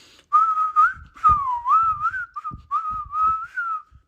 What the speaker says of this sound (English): we don't do whistling up here